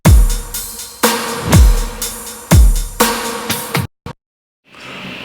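A drum beat with a deep, boomy kick hitting in a steady pattern, cymbals and snare on top, then it cuts to silence.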